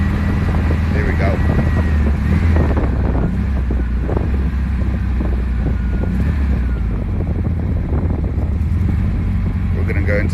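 Constant wind rush and buffeting in an open Bugatti T35 replica on the move, steady and loud throughout with engine rumble underneath and a person talking over it.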